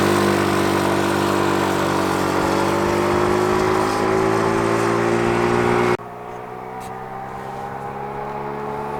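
A GY6 scooter engine fitted with a performance CDI box revs hard and loud, holding a high, rising whine before dropping abruptly to a lower, steady drone.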